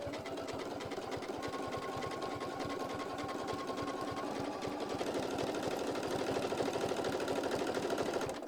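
Domestic sewing machine stitching fabric with pins in it, a steady rapid mechanical clatter running continuously, close and fairly quiet, with no voices.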